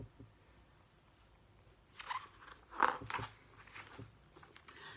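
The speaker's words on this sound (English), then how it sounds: "It's the sound of the sharp teeth of a parrotfish scraping the hard coral for food." A parrotfish's sharp teeth scrape and crunch on hard coral of an underwater reef, giving a few faint, close crunching bites in a short cluster against a quiet background.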